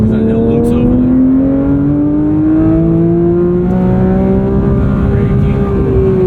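Porsche 911 GT3 on a track at the Porsche Experience Center Atlanta, the engine humming loud and steady from inside the cabin as its pitch slowly rises, with a voice speaking over it.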